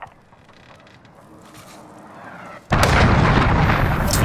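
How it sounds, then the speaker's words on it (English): A cruise missile strike in Call of Duty Modern Warfare: a quiet low rumble swells gradually, then a sudden massive explosion bursts in and holds as a loud, broad, roaring blast for over a second. "Allied cruise missile away."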